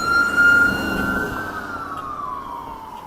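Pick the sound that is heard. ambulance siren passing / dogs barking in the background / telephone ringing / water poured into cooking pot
ambulance siren passing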